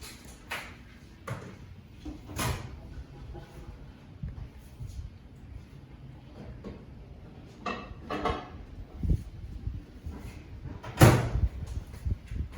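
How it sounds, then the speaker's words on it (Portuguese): A kitchen microwave door opens and shuts as a bowl of pine-nut bread dough goes in to rise, giving scattered clunks, soft knocks and a loud closing thud near the end in a quiet room. "Eu vou aqui colocar no micro-ondas."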